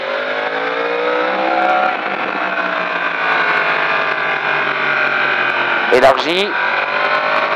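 A motorcycle is opened up to full throttle during a riding drill, its engine note climbing in a long, steady rise with a brief sharp burst near the end, while an instructor speaks over it.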